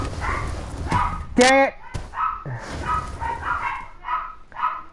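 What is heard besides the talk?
dogs barking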